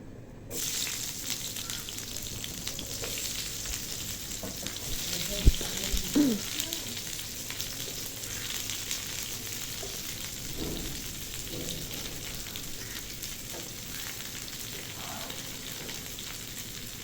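Bitter gourd slices fry in hot oil, giving a steady close sizzle with a few scraping stirs partway through and a constant hiss that carries through to the end.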